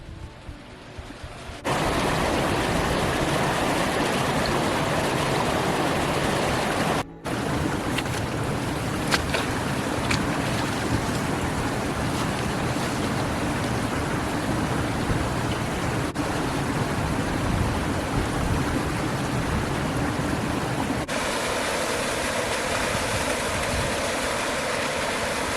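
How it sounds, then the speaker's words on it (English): A waterfall and the Otira River stream rush near a footbridge in Arthur's Pass National Park, New Zealand, producing a dense, steady roar of flowing water that persists loudly and continuously throughout, with no voices. "Waterfall up by the footbridge."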